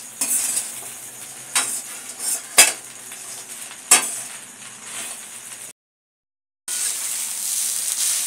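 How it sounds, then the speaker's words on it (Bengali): Salt is stirred into flattened rice pulao in a pan, a low sizzle under a metal spoon scraping and clinking against the pan several times, with a short silent gap before the sizzle resumes. "এইবারে নুনটাকে ভালো করে এর মধ্যে মিশিয়ে দেবো"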